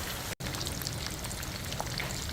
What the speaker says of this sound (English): I'm outside frying this butterfish here.